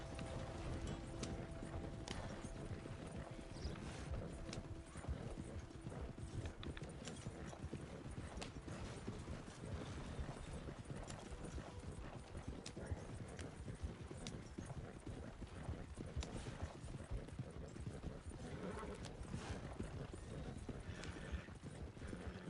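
Horse hooves clip-clop steadily and quietly for a long stretch, an even trotting rhythm with faint mechanical clicks, from a horse in the video game Red Dead Redemption 2 Online.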